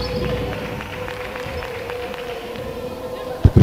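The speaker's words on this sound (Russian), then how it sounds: "вологодские болельщики кричат уже" Vologda volleyball fans in an arena at a women's Russian league match against Dynamo Moscow, a steady distant crowd roar of shouting under a commentator's voice, with a couple of sharp thumps at the end.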